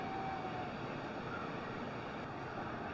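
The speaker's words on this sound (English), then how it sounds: "you can hear the waves crashing" Surf washing onto a beach, a steady, even wash of broadband noise that holds without pause and sounds fairly close, with some wind over the microphone.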